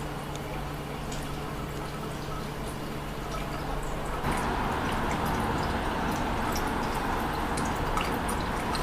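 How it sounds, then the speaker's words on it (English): A lab solution boils steadily over a blue flame with a continuous bubbling hiss that turns noticeably louder and busier about halfway through. "You see how it's just boiling, but it's not over bubbling."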